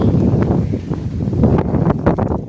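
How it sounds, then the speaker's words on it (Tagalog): Strong wind buffets the microphone with a steady, loud rumbling roar, with gusts and some rustling throughout. "Super hangin dito. Ayan, may bagyo ata guys"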